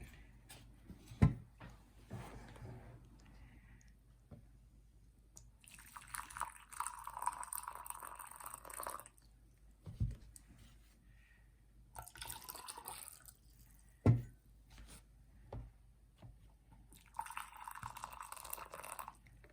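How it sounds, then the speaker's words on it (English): Intermittent bursts of boiling water being poured into cups, with a few sharp clinks between pours, close by and otherwise fairly quiet. "I'm going to put 4 ounces of boiling water in each of these cups."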